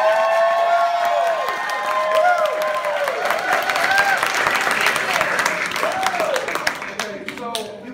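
An audience at a training event claps steadily for a group of directors, a full, even burst of applause with some cheering, while a voice carries on over the top.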